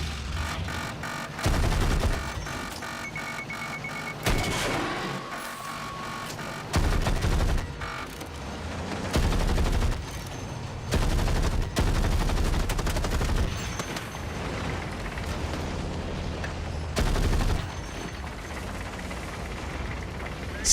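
Sustained gunfire in a video game comes in repeated loud automatic bursts separated by short pauses, heavy and booming, with music or ambient game sound running underneath throughout.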